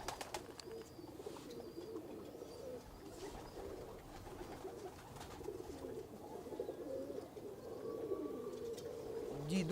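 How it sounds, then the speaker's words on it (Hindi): Soft, low pigeon cooing repeats in gentle phrases throughout, faint and close, with a pair of domestic pigeons kept in a loft, over quiet background noise. "उसकी कबूतरी है ये।"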